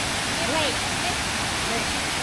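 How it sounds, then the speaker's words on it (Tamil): Waterfall at Alloa Burn in Scotland pours steadily, a dense close-up rush of falling water filling the whole short stretch without pause. "இந்த நீர்வீழ்ச்சியோடைய நடுவிலேருந்து இந்த தண்ணி வந்து வருது"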